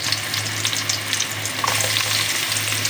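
Onion frying in hot oil in a casserole pot, a steady dense sizzle and crackle throughout, close and continuous with no talking.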